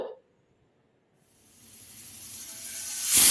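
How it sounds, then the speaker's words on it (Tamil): A pressure cooker releases steam, silent at first before a hiss builds steadily and rises to a loud, sharp whistle at the end. "இப்போ குக்கரில் நல்லா இந்த மாதிரி விசில் வந்ததுக்கப்புறம் ப்ரெஷர் எல்லாம் நல்லா ரிலீஸ் ஆகட்டுங்க"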